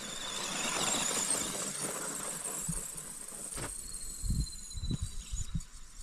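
A Duratrax Evader RC car, about 25 years old, whines as it is driven, a high electric-motor squeal rising and falling with bursts of throttle, with scrapes and knocks of the tires on the ground toward the end.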